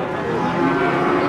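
Limousin feeder cattle at a cattle market low in a steady, loud, drawn-out moo held from start to finish, nearby and without voices.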